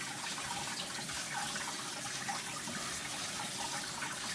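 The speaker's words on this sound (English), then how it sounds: "But giving it a good rinse is good enough." Running water from a kitchen tap rinses salted cucumbers in a sink for cucumber kimchi, a steady hissing splash heard alone at moderate level.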